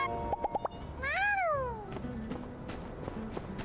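A cat meows in a video game, one clear drawn-out meow after a few short clicks, close and alone with a soft background hum.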